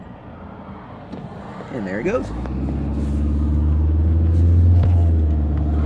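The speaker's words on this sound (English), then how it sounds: "I hear a car." A car approaches and rumbles past nearby, its low engine and tire noise swelling steadily and staying loud at the end, while a person speaks briefly beforehand.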